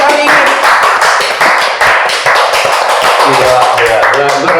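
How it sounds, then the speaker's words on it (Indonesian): Hand clapping during an Indonesian podcast discussion, a few people clapping in uneven bursts up close while voices talk over and between the claps. "tepuk tangan dulu untuk hari ini"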